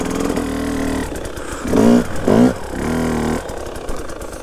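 A moped engine drones steadily while riding through woods, rising in two short revving surges before settling back to a steady hum, close and loud throughout.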